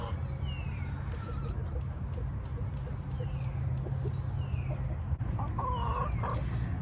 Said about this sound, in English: Looks like a good chicken foot, Leia